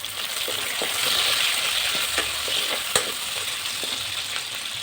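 Onions and tomatoes frying in a pan for paneer butter masala, a steady close sizzle with occasional stirring clicks and scrapes, no voices.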